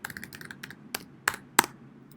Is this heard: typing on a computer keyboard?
yes